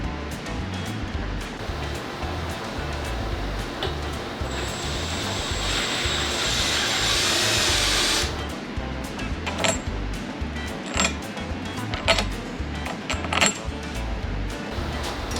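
A drill whines steadily for a few seconds as it bites into an aluminum handle pole of a 2023 Yamaha Superjet, followed by clinks and clatter of handling over a rough outdoor background.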